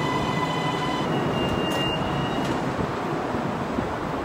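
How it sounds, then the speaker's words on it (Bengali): A train pulls into a station in Kuala Lumpur, with a steady rumble and rolling hiss, some faint high tones and a brief squeal. "আমার পিছনে দেখতে পাচ্ছেন আপনারা ট্রেন এসে পড়ছে"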